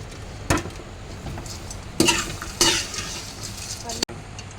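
Fried ivy gourd being stirred through garam masala in a pan, with several distinct scraping strokes of a spatula over a steady sizzle, close and fairly loud.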